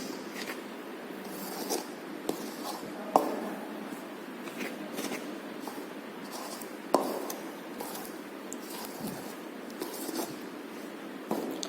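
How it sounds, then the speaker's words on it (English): Dry flour and yeast being stirred together in a bowl for focaccia dough: soft, scratchy rustling and scraping throughout, with a couple of sharper knocks from the utensil against the bowl, quiet and close, with no talking. "And I'll put all the yeast to it. Next, I'll give it a mix."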